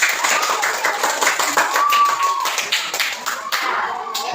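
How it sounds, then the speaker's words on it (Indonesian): Students in a classroom clap together after a chemistry lesson on making oral rehydration solution, a lively patter of many hands, close and fairly loud, trailing off near the end. "tepuk tangan untuk kita semua"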